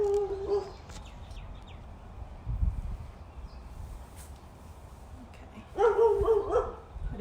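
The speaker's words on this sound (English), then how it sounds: "It appears we've got the neighbour's dog probably joining in on the session from time to time, chiming in." A neighbour's dog barks intermittently in the distance, a few short faint yaps at the start and again near the end over steady background noise.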